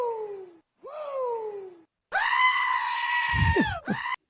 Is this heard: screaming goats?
yes